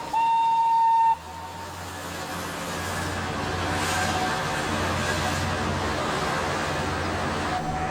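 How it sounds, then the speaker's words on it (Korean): A Meiji-era train running through a city centre in Matsuyama, Japan: a clear whistle toot opens, then a steady, rumbling low-pitched roll of wheels on rails continues. "마스야마 도심 한복판에는 메이지 시대에 운행하던 열차도 다니기 시작했다"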